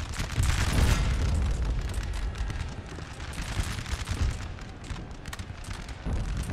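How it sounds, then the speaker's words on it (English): Howitzer artillery fire in Napoleon: Total War, repeated heavy booms and explosions rolling over a dense battlefield rumble, loudest near the start and recurring irregularly throughout. "A lot of howitzer fire."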